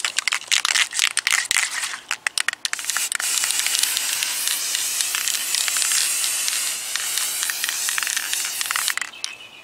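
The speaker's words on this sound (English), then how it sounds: "We're gonna spray some on there." Semi-gloss black paint misted from a spray gun onto a car body, a steady close hiss of atomized spray running nearly continuously after a few short bursts at the start.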